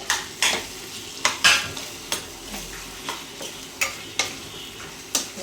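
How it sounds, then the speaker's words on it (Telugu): Mutton pieces go into a pan of frying masala and lightly cooked tomato, giving a soft sizzle under a run of sharp metal scrapes and clinks from stirring, about a dozen hits spaced irregularly. "ఇప్పుడైతే మటన్ వేసేస్తున్నా ఇందులో"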